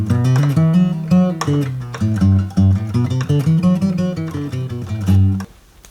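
A major scale played on guitar, a run of distinct plucked notes in steady succession, clear and close, ringing out briefly at the end before a short silence.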